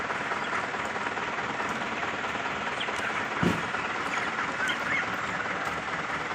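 A flock of chickens on a small farm, gathered together for harvest: a dense, continuous wash of clucking and squawking close by, with no clear pauses.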